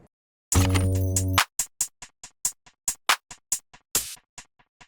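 A single low piano note from a Grand Noir preset, used like an 808 bass, sounds once as a held boom before a quick run of sharp ticking clicks. No talk.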